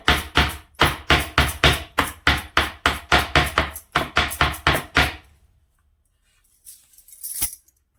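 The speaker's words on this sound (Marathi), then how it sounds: "आता जो लसूण होता वल्ला लसूण तो आपल्याला असा ठेचून घ्यायचा" A quick, steady series of sharp thuds as garlic is pounded and crushed, about eighteen close strikes, then quiet and a brief clatter.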